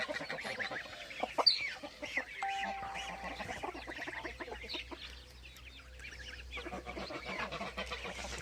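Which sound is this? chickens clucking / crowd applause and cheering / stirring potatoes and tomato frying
chickens clucking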